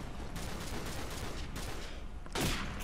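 Continuous rapid gunfire in Call of Duty 4, dense overlapping shots and bursts from an online match, loud and sustained with a sharper, louder burst near the end.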